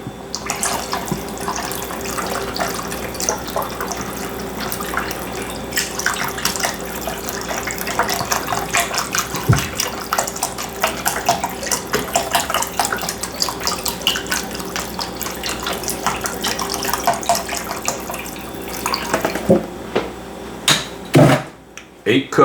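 Eight cups of broth pour steadily from a container into a pot on a stovetop set to high heat for chicken and rice soup, a continuous splashing liquid stream lasting about twenty seconds before a few clunks and handling noises.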